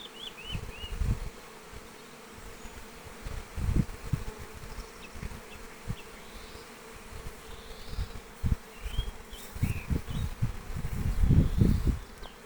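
Honeybees foraging on flowering acacia during an active nectar flow, a steady outdoor buzz of many insects with closer individual bees droning past now and then, louder toward the end.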